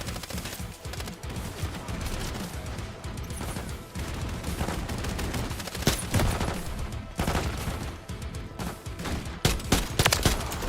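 Continuous video game gunfire rattles through the whole stretch, rapid overlapping bursts and individual cracks forming a steady, moderately loud firefight with no talking.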